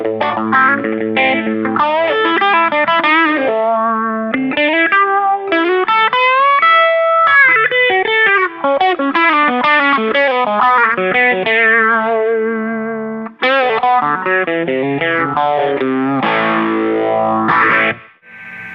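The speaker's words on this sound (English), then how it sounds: "I'm using a Phase 90 MXR, super classic pedal. And I've got the phase going nice and slow." An electric guitar runs through a classic MXR Phase 90 pedal set to a slow phase, playing a busy melodic line of picked notes with a sweeping, swirling tone, loud and close throughout.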